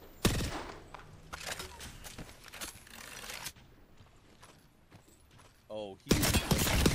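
Gunfire in an Apex Legends match: scattered sharp shots and bursts, some loud and close, others distant, with a caster talking excitedly over much of it and a loud volley at the end.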